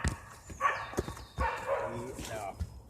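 A dog barking on a forest walk, two short bark bursts close by, mixed with people talking and footsteps.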